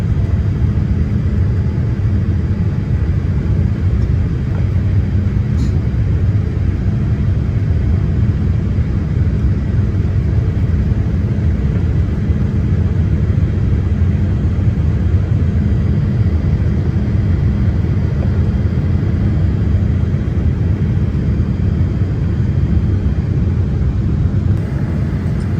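Japan Airlines Boeing 787-8 economy cabin in flight through clouds, a loud, continuous low engine and airflow roar that holds steady throughout with no voices.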